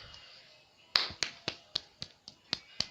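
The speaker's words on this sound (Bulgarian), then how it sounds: "затова пляскам" Hands clapping by a player of Clash Royale: a quick run of about eight sharp, crisp claps in steady rhythm, close and fairly quiet, following a near-silent opening.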